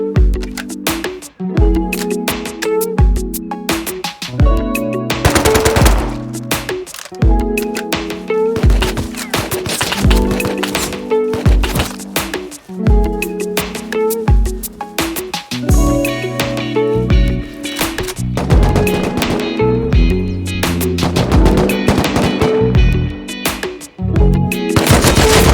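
Gunfire during a raid in the game Rust: sustained loud bursts of rapid automatic fire with single shots mixed in, rattling almost continuously and close, no talking.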